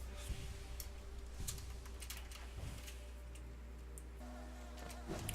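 Steady, low insect buzzing from bees in the hive area of Hollow Knight, a continuous drone with faint clicks and ambient hum, no voices.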